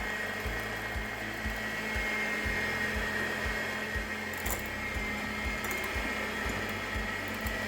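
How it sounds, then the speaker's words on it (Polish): An electric mixer runs at full speed whipping egg whites with white sugar for meringue, a steady loud whirring drone with a rhythmic low pulsing, alone without talk. "miksujemy przez 10 minut na maksymalnych obrotach"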